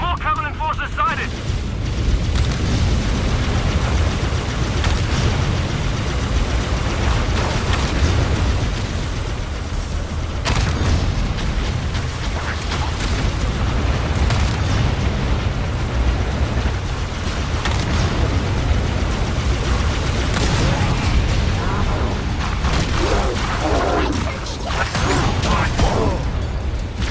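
Explosions burst as a Scorpion tank is destroyed in a Halo battle against Covenant forces, booming within a dense, continuous mix of game combat noise, mechanical clatter and voices.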